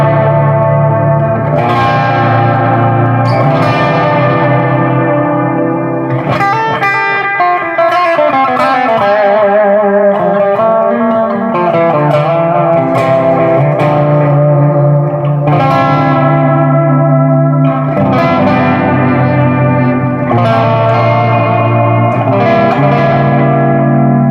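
An electric guitar runs through a Wampler Pantheon Deluxe overdrive pedal at light gain, with strummed chords and ringing single-note phrases that carry mild grit and a reverberant sustain, loud and alone.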